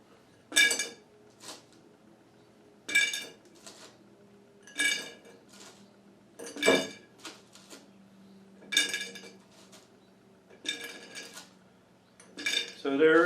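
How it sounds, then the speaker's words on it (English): Sugar cubes drop one after another into a jar for a vodka infusion, making sharp, close clinks at a slow, steady rhythm with quiet gaps between them. "The next thing we want to add is 44 sugar cubes."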